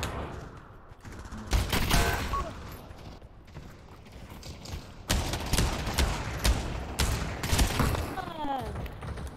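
Rapid gunfire in the virtual-reality shooter Pavlov VR during a team deathmatch in a container yard, quick clusters of sharp shots and bursts separated by brief lulls, with metallic handling clatter between them.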